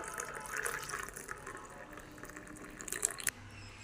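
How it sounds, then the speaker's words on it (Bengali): Tea poured through a strainer into a cup, a soft close trickle of liquid with small splashes and a few brighter clinks near the end, quiet throughout. "চাটা ছেঁকে নিচ্ছি"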